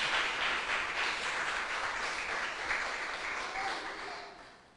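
Church congregation applauding during a Sunday celebration service, a dense sustained roar of clapping that holds steady and fades away at the end, with no one speaking over it.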